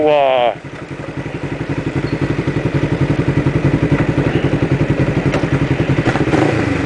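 A motorcycle rides steadily, its engine putting out a fast, even pulsing drone that starts after a brief opening voice and stays loud and close throughout.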